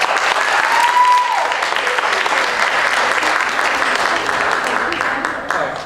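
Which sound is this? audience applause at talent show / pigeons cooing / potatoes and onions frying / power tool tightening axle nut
audience applause at talent show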